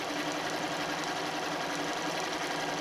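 A sewing machine runs steadily as it straight stitches around fused fabric on a wine bottle bag, a dense continuous mechanical whir from close by with no pauses.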